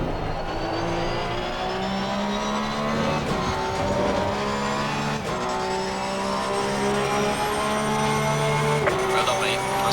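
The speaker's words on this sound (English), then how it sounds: "I'm braking a little early." A 2021 Porsche GT race car in Assetto Corsa Competizione at the Nürburgring roars with a loud, steady engine drone, its pitch dipping as it brakes, with faint tyre noise.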